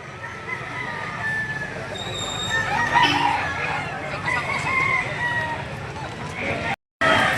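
Chickens at the Lipa livestock auction market in Batangas crow and cluck continuously, several birds overlapping near and far, with market chatter and human voices underneath.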